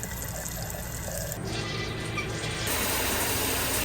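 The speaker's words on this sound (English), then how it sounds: "I'm going to run water through all my faucets, etc., long enough to make sure that this new water we just put in with the bleach gets to all the piping" Tap water gushes steadily through an RV's faucets and plumbing as the freshly bleached tank water is flushed through the lines, a loud continuous rush that swells slightly near the end.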